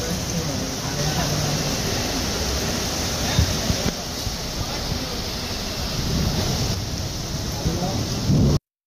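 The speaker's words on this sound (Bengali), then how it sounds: "বজ্রপাত ও ঝড়ো হাওয়া সহ ভারী বর্ষণ শুরু হয়।" Heavy rain during a record-breaking storm in the United Arab Emirates, a dense, steady roar of downpour with gusty wind and occasional low thuds of thunder, continuous and fairly close throughout.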